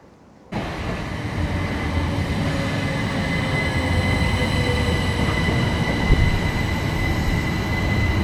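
A train roars steadily through a small station platform, loud and close, starting abruptly and holding a continuous rumble with high metallic wheel whine for several seconds.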